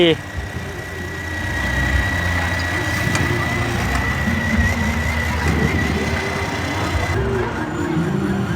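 A truck's large JO8C diesel engine idles with a steady low rumble and faint rattle; a voice speaks briefly over it.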